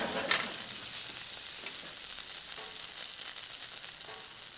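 French toast fries in a pan in a home kitchen, a soft, even sizzle that crackles on throughout with no voices.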